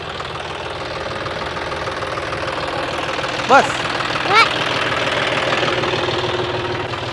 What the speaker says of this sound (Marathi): ट्रॅक्टर चालवायला बसलाय बघा आता